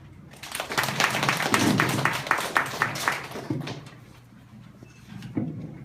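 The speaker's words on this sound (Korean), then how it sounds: "이재영 교수님께 박수로 한번" Modest applause from a seminar audience greeting a professor before a talk on North and South Korean weapons: a few seconds of fairly close claps that thin out and fade, leaving a quiet room with a faint voice near the end.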